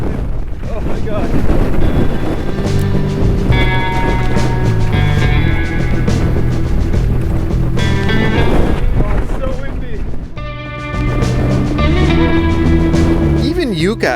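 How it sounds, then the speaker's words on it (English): Strong coastal wind buffets the microphone of a cyclist riding a bike near San Luis Obispo, a steady heavy roar with gusts, while people exclaim and chatter over it. "That was really windy."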